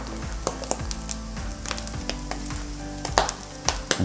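Chickpeas seasoned with smoked paprika, garlic powder, kosher salt and pepper sizzle loudly in a skillet, with steady frying hiss broken by sharp clicks and scrapes of stirring.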